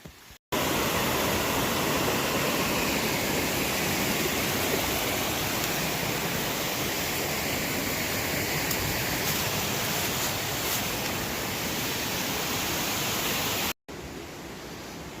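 A canyon stream rushes past rocks, its water still high, giving a loud, steady, close roar of flowing water with no talking.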